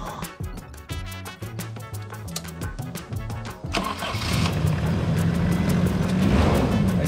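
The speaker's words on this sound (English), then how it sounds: "And it starts first time, every time, like a champ." A camper van's engine cranks with a rhythmic starter whir for a few seconds, then catches and settles into a loud, steady idle close by.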